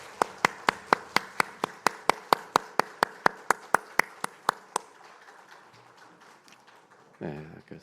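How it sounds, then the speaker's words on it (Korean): A church congregation clapping in unison during a Sunday worship service, a steady run of about fifteen sharp, evenly spaced claps that stops abruptly, followed by soft room noise and a brief voice at the end. "하나님께 영광의 박수 올려드리겠습니다"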